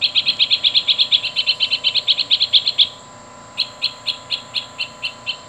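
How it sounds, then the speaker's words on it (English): Great spotted woodpecker sound from a Wild Republic Audubon plush toy, a rapid burst of high squeaky chips in a fast steady string, a short pause, then a slower series of evenly spaced chips, thin and toy-like. "Another great spotted woodpecker."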